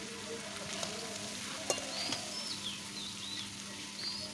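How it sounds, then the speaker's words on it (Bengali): Masala with turmeric frying in a pan in a village kitchen, a faint, steady low sizzle with occasional soft stirring taps and birds chirping faintly in the background. "এখানে সব মশলাতে কষাতে কষাতে কিন্তু আমি হলুদটা অ্যাড করে দিলাম"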